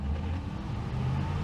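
A 1965 Ford Thunderbird cruising at about 40 mph, heard as a steady low engine and road drone from inside the car, continuous with no voices.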